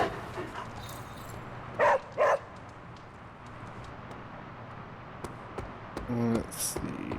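A dog in the video game Marvel Midnight Suns gives two short barks, then a quick yip, fairly faint over quiet game ambience.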